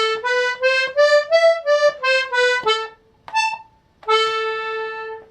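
A diatonic melodeon plays a stepwise pattern of clear, reedy notes on one row of its keyboard, a quick run of even notes followed by a short pause, then a few held tones, all close and alone without talk.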